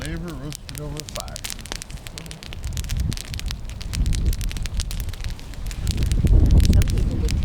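Campfire crackling and burning outdoors while Spam roasts over the flames, with steady broadband rushing and frequent crisp pops that grow louder toward the end, mixed with a voice speaking over it early on.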